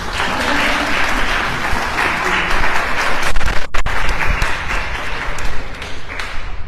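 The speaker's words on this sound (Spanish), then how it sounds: "Un aplauso para nuestros compañeros." Audience applause at a panel discussion on poetry, psychology and the brain: dense, steady clapping from a crowd that carries through the whole stretch, swelling slightly toward the middle before holding firm.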